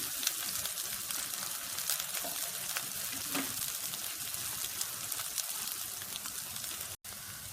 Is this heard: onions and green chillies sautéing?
yes